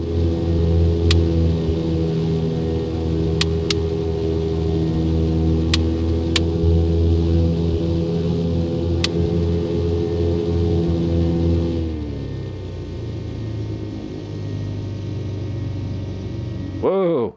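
Piper Archer III piston engine in X-Plane 12 holding a steady loud drone at about 2,000 rpm during a run-up, then dropping to a lower idle rumble near the end, with a few faint clicks over the top.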